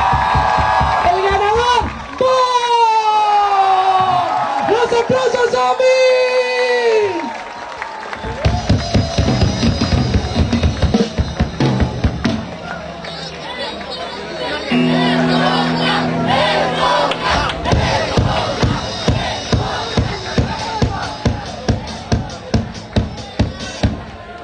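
At a zombie walk in Mérida, a crowd shouts and cheers loudly while people talk over the noise, and then breaks into dense, rapid clapping mixed with whoops that continues to the end.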